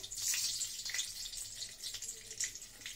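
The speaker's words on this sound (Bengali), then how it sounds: "এই যে মেথি ফোড়ন দিয়ে দিলাম" Fenugreek seeds dropped into hot oil left from frying fish for a methi katla curry, giving a steady, close bright sizzle and crackle with scattered pops and no talk.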